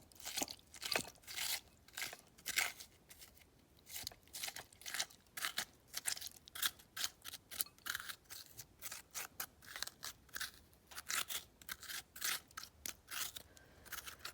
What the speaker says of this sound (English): You can hear how hard the cucumber is.